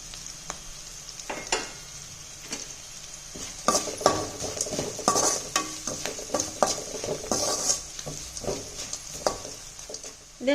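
Sautéing vegetables in a pan with turmeric and asafoetida powder stirred in: a continuous sizzle with frequent spoon scrapes and clinks against the metal, close and busy, with nobody talking.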